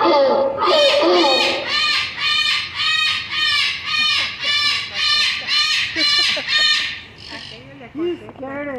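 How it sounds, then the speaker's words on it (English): A flock of startled fowl, likely geese, erupts in loud repeated honking squawks close by in a park, a rapid rhythmic series of calls that tapers into scattered cries. "I scared the birds."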